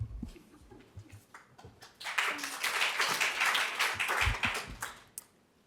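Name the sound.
audience applause after a talk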